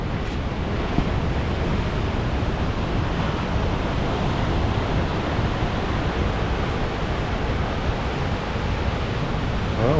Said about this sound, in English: Waves breaking